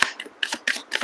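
A Cigano (gypsy) fortune-telling deck is shuffled in four quick riffling bursts, close and crisp, with short gaps between them and no voices.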